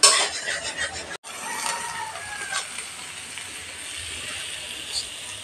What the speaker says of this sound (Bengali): মিডিয়াম হিটে তেল ছাড়া অবধি কষিয়ে নেব মশলাটা।